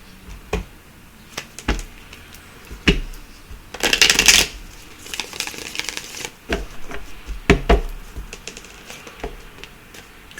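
A deck of cards is shuffled close up, with scattered flicks and taps and then a dense, rippling riffle burst in the middle, followed by lighter card handling.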